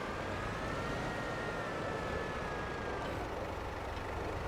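Valtra tractor engine straining in Farming Simulator, a steady, loud, unbroken drone with a faint rising whine that holds for the whole stretch, with no voices.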